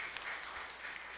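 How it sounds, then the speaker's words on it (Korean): A church congregation claps at a mission sending service, a steady patter of applause from many hands, moderately quiet and without talk. "좀 박수 좀 보내주실까요?"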